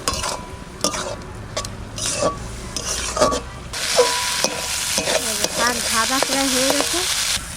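Lentil dumplings and peanuts frying and being stirred in a pan, with a steady close sizzle under repeated scraping strokes of a spatula against the metal, growing busier and more crackly partway through.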